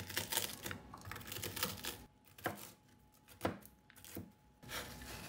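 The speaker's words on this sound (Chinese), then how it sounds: "核桃仁同样的方法来给它研碎。" Walnut kernels crushed with a knife on a board for mooncake filling, giving irregular crisp chopping knocks. Some clusters are quick and others isolated, with brief quiet pauses, close and fairly soft.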